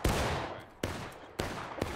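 Volleys of rifle fire ring out from a firing line at a military training event, three or four sharp cracks spaced under a second apart, each followed by a rolling echo in open air.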